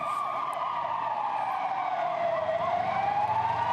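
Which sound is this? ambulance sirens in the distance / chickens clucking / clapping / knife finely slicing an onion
ambulance sirens in the distance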